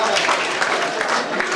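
Applause at an NCC training closing ceremony, a brief dense patter of many hands clapping at once, steady and fairly loud, with voices mixed in beneath.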